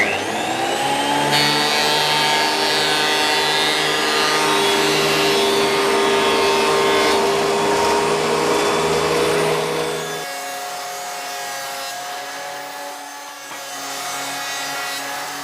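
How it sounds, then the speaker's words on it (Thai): A wood thickness planer runs loud and steady with a droning motor hum and a whining cutter tone, then drops to a quieter idle partway through, with no one talking. "ลักษณะของเครื่องรีดหรือว่าเพลนเนอร์เนี่ยนะครับ"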